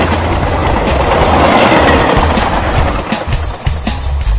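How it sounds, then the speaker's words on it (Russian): A cartoon train rumbles loudly and steadily, with a dense roar and faint clickety-clack of wheels, drawing close without any voices. "я представил себе, что бегу от поезда, а он меня настигает"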